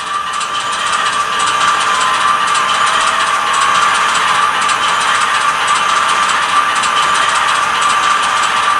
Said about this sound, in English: Function 11 is the manual radiator fan.